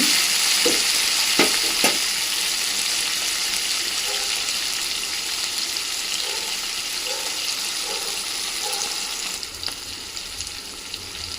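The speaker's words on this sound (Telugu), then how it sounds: "కొంచెం ఆయిల్లో డీప్ ఫ్రై అయిన తర్వాత ఆనియన్స్ని కూడా వేయండి" Onions sizzling in oil for a carrot egg curry while being stirred, a steady close crackle with sharp utensil knocks early on and recurring soft scrapes, continuing evenly throughout.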